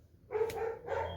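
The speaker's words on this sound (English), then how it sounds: "that's my dogs in the background" Several dogs bark a few times in the background, in two short loud bursts with a brief gap between them and no talk over them.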